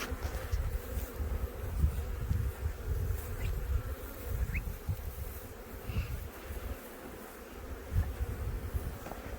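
Honeybees buzzing close by during a nuc transfer into a hive on a farm, a dense continuous drone with individual bees passing near the microphone and some wind rumble.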